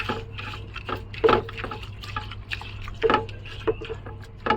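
Water being added to poha (flattened rice) as it is rinsed in a sieve, soft trickles and wet squishy splashes coming in bursts over a low background hum.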